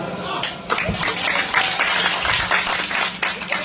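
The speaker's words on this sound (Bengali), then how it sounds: "জোরে হাততালি" Loud clapping from an audience at a kirtan gathering, bursts of hand claps rising and falling unevenly, with a voice speaking partly over the noise.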